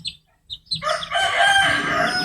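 A young rooster (stag) gives a single loud, close crow that rises and holds to the end, after a couple of short clucks.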